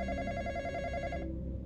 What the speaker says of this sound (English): I gotta answer the phone again